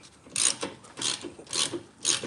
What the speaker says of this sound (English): Just gonna do up this bolt now